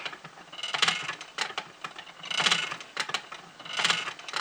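A spinning wheel turns while 100% angora yarn is spun, giving close, rhythmic swishing whirs that swell and fade about every second and a half, with light mechanical clicks between.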